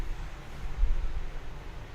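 An electric fan runs right beside a sensitive microphone, a steady low broadband whoosh with a rumbling low end and no other sounds on top.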